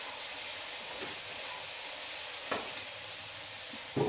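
Soy sauce hits a hot pan of cauliflower fried rice and sizzles with a steady, close hiss, a few soft knocks of stirring breaking through now and then.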